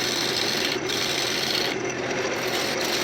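A steady, loud abrasive rasping of a tool cutting into maple spinning on a lathe, shaping a lid, continuous and unbroken with slight shifts in tone.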